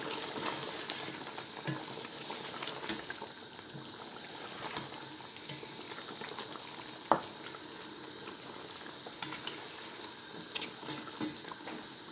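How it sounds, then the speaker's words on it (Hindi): Chicken tikka pieces frying in oil, a continuous hissing crackle of moderate loudness with scattered pops and one sharper clink of a utensil midway. "इसके कुक होने तक हम इसको चिकन को फ्राई करते हैं"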